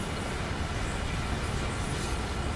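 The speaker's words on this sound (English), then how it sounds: "That's more like the noise of a train." Steady, dense rumble and rush of a train running on rails in the Train Sim World 5 simulator, continuous and even throughout with no talking.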